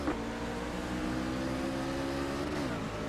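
Engine roar from a pack of race trucks accelerating on a green-flag restart at Phoenix in a racing video game, a steady loud mechanical drone with rising revs and no voices.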